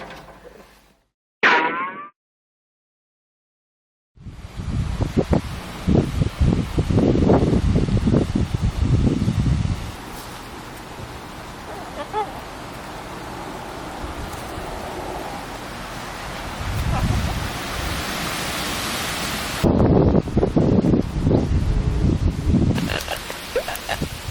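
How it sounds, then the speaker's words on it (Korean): Strong wind roars steadily outdoors, buffeting loudly and rising and falling for most of the stretch after a short bird squawk and a moment of near silence. "바람이 너무 많이 분다"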